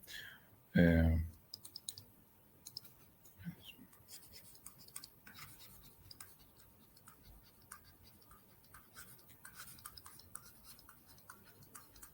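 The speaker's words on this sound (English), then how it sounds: "I will type my email just in case you want to contact me." Typing on a computer keyboard makes light, irregular clicks close by, following a brief louder burst of sound at the start.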